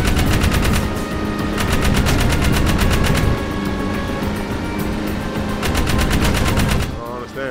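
Rapid bursts of game gunfire from Jak 3, loud and sustained as rhythmic machine-gun-like volleys with short pauses, over engine and vehicle noise throughout.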